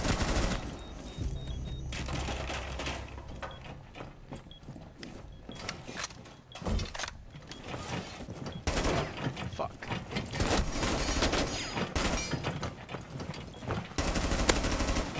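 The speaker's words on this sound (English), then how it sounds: "They're using that damn fucking turret against me." Rapid automated turret fire in Rainbow Six Siege rattles in sustained bursts through a busy game mix, mixed with other gunshots and explosions, while a player talks over the action.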